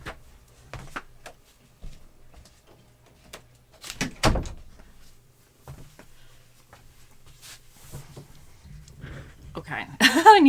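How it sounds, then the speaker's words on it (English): An indoor door pushed shut in a quiet home, one brief thud standing out over faint room noise and a few scattered knocks and shuffles, with no talk over it. "Let me shut the door."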